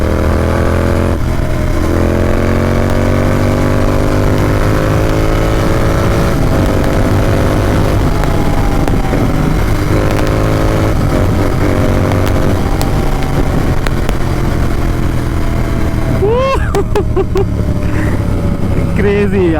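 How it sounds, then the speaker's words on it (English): Royal Enfield Interceptor 650 motorcycle accelerating with the throttle opened on a road: a loud, steady engine drone rising through the gears with pitch climbing and shifting, heard from the rider's position alongside wind noise and passing traffic. "Close road, open the throttle and let's go."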